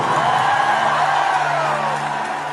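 A large concert audience at a show whoops and cheers in a loud, continuous roar, with a steady hum beneath the crowd noise.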